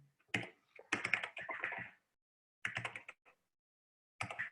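Bursts of computer keyboard typing in a shell session, a quick flurry of clattering keystrokes, then a pause before two shorter rapid clusters of taps, close and fairly quiet with no voices.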